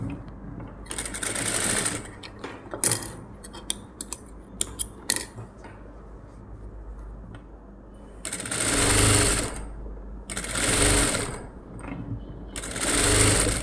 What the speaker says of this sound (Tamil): வச்சு இப்படியே 1/4 இன்ச்சில் நம்ம தைச்சிட்டே வருவோம்.